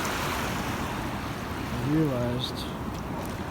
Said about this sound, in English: I'm on the beach, here comes the water.